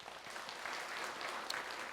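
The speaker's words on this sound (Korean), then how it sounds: "박수하겠습니다." A church congregation applauds steadily during an Easter Sunday worship service, a dense, even wash of clapping that carries on without a break.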